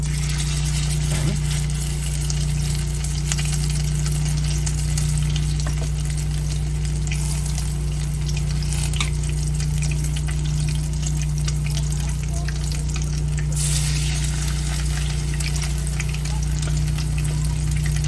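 Chicken fritters sizzle in a pan on an RV stove, giving a steady, loud hissing fry with a constant low hum underneath and occasional faint clicks.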